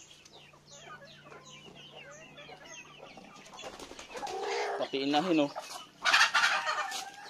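Several chickens cluck and squawk close by, growing louder and busier toward the end, with a brief spoken phrase near the start.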